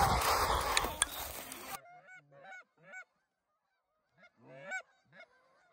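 A flock of geese honks during an early-season goose hunt in Minnesota, starting under loud wind rumble and then a series of clear, moderately distant honking calls in bursts.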